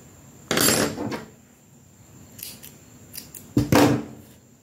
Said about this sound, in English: I'll just fasten up and cut my yarn